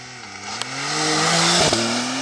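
A Porsche launches hard from a standstill on a rough, poorly surfaced road, wheels spinning for traction as the engine note climbs steadily and loudly, with a brief sharp knock partway through.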